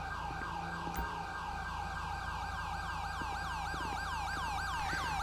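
An ambulance siren in the video game Grand Theft Auto V wails in fast, repeating up-and-down sweeps over a low engine hum, loud and continuous without speech.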